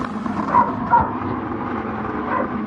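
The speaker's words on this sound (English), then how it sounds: "very confused why my dog's howling" A dog howls in the background, a faint wavering cry over a constant low engine drone, with two small swells in pitch and volume.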